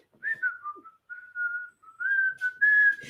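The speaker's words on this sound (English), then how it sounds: "He's whistling now." A person whistles a tune alone, a clear melodic line of sustained notes with short gaps, close and fairly loud with no talk.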